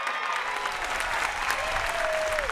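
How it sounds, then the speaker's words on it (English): A large commencement audience applauds Commonwealth Scholars at an undergraduate graduation ceremony. The clapping is dense, even and continuous, with a faint tone gliding through the crowd noise near the end. "Let's give them a round of applause."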